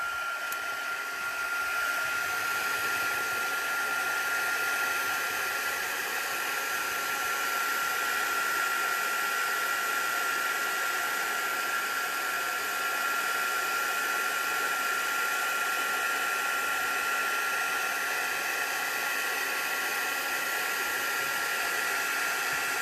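A hair dryer blows steadily and evenly for over twenty seconds to dry homemade washi tape, a constant close whooshing hum with no talk.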